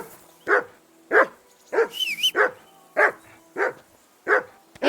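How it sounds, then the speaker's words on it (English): Medieval dog in Kingdom Come: Deliverance II barks loudly and insistently, about eight sharp barks at a steady one-per-second rhythm, close by, with a brief whining yelp partway through. "Whistle at that mutt of yours to stop barking!"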